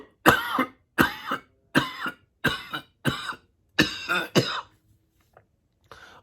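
A rapid run of about seven harsh coughs in a steady rhythm, close and loud, then a pause and one faint final cough.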